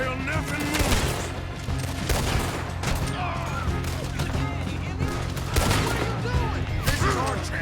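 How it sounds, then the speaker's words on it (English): Heavy gunfire fills a firefight in Red Dead Redemption 2, with dense overlapping shots and sharp cracks. Voices and game sounds sit underneath the continuous barrage. "Just keep shooting until nothing moves."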